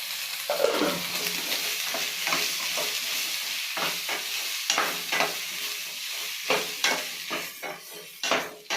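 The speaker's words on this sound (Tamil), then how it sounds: "கொஞ்சம் இஞ்சி கொஞ்சம் பேஸ்ட் போட்டுங்க. போட்டு வதக்கணும்." Ginger and ginger-garlic paste sautéing in a pan, a continuous hissing sizzle with frequent close scraping strokes of a spatula stirring, irregular and unaccompanied by voices.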